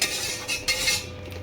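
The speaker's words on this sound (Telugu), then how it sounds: "అది స్పూన్తో కలుపుదాం" A spoon stirs sugar syrup for gulab jamun in a pot, a close, fairly loud, continuous scraping and swishing with a few brief clinks against the metal, under a steady low hum.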